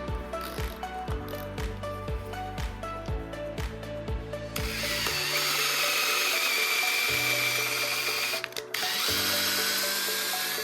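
A power drill drives a screw into plastic RC car arms, whirring in repeated short bursts, then settling into a steady, loud grinding drive with brief pauses and restarts, close to the listener.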